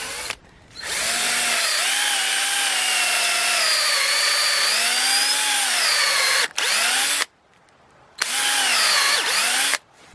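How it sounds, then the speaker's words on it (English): A power drill with a 5/16 bit pre-drills holes for a pig pen, whining loudly in long sustained runs with rising and falling pitch, broken by short pauses between bursts. "Just gonna go ahead and pre-drill them with a 5/16 drill bit."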